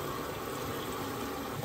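Tap water runs steadily over local free-range pork ribs being rinsed in a kitchen, a continuous close hiss and splash with no voices.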